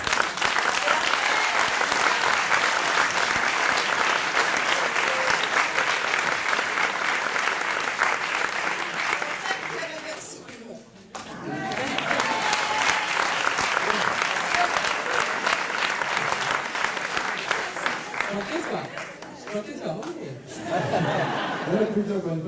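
Sustained audience applause at a French science show event, dense and loud for about ten seconds, dipping briefly, then swelling again with scattered chuckles and voices mixed in.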